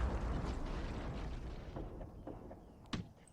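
Mortar fire in the war game Graviteam: Fateful Strike: a low rumbling roll of distant blasts, followed by a few faint thuds and one sharper bang near the end.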